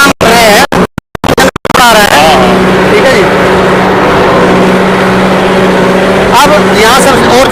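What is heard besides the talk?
tractor engine pulling an 11-tine tiller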